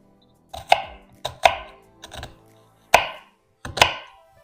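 A knife chops through onion on a cutting board in five or six quick, crisp strokes, close up with short pauses, no talking.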